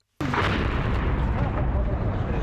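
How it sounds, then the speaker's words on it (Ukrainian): An artillery shell explodes near a frontline position under bombardment, a sudden loud boom followed by a sustained rumbling roar of blast and debris that fills the whole stretch. "тут квадрат зараз вже обстрілюється"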